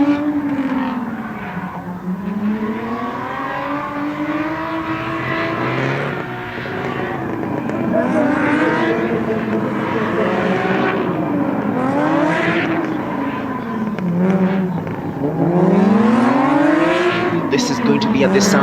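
Rallycross race car at a motorsport festival in Kenya, its engine revving hard and easing off in repeated swelling waves as it drives, steady and fairly close, with a commentator talking over it throughout.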